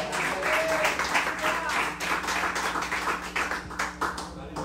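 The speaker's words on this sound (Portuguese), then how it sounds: "Você pode aplaudir ao Senhor com o seu melhor." A church congregation at an evening service claps for the Lord, brisk crowd clapping in a reverberant hall with voices and music mixed underneath throughout.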